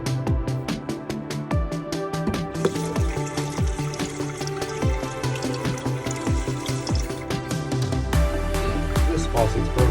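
Water runs from a broken faucet with no shutoff on a boat plumbed with PEX, a steady splashing flow with rhythmic gurgling pulses, close and fairly loud.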